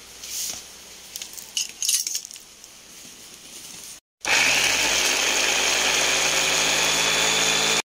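Kitchen blender grinding garlic and onion switches on after a few seconds of faint clinks and handling, then runs as a loud, steady, high-pitched motor whir to the end.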